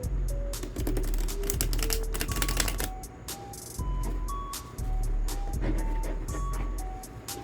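Tarot cards are shuffled close up in rapid riffling bursts with dense papery clicks, broken by short pauses. Faint tonal beeps and low background rumble run underneath.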